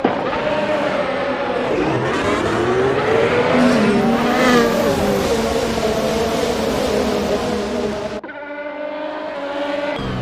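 A grid of F1 race cars launches from a standing start at Paul Ricard in Assetto Corsa, with many engines revving hard and rising in pitch together and a brief squeal of tyres, before the field suddenly cuts to a single car's climbing engine note.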